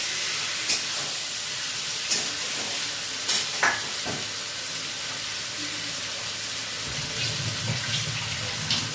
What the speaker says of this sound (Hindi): चिकन को पहले मैं इसमें दे देती हूँ। प्याज के ऊपर मैंने चिकन दे दिया।